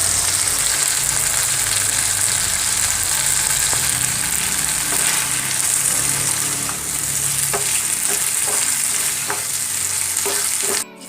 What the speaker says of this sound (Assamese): এতিয়া মই ইয়াতে অকণমান গৰম পানী দি দিছোঁ সিজিবৰ বাবে।